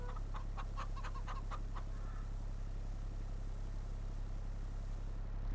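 Chickens cluck in a short burst of several calls in Farming Simulator 22, fairly faint over a steady low machine drone, then fading to the hum alone.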